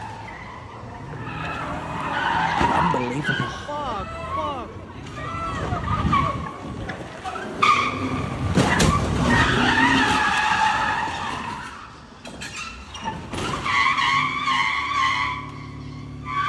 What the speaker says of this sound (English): look at that car go